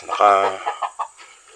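Chickens cluck nearby in a few short bursts, the first longer and louder, followed by quieter scattered clucks.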